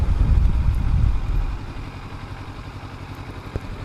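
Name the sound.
motorcycle riding through town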